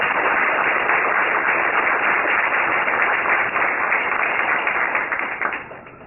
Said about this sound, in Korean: 그 장도를 또 응원하는 박수를 부탁드리겠습니다